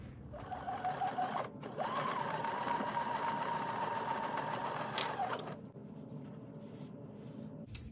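Sewing machine stitching quilt pieces, running in two close, steady bursts of rapid mechanical whirring, a short one then a longer one of about four seconds, before stopping into quiet room noise.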